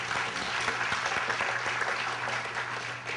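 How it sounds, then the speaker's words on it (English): Canned applause plays steadily, a dense, even wash of clapping that stays loud and uniform for the whole stretch without talking over it. "I love the canned applause."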